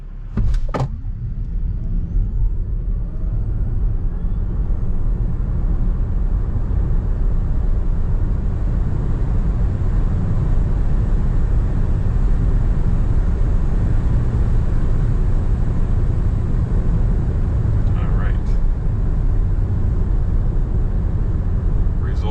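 A 2026 Tesla Model Y (Juniper) pulls away from a standstill, a steady loud rush of road and wind noise building and holding throughout, with a couple of brief clicks near the start and again later.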